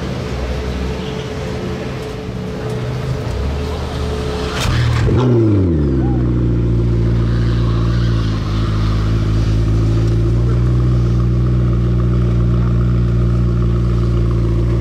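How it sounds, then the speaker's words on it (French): A McLaren P1 hypercar on a street in Monaco starts up with a sharp bark, then settles into a loud, deep, steady idle with small rev changes, heard close by after a stretch of quieter street noise. "il a coupé le moteur en plus, donc on aura le start-up"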